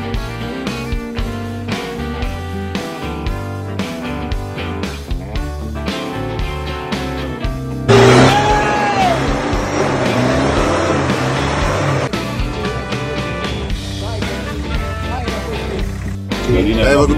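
A Toyota rally car's engine roars through the Cupa Sisesti 2020 rally, loud and continuous, surging harder partway through, while spectators shout and cheer over the noise.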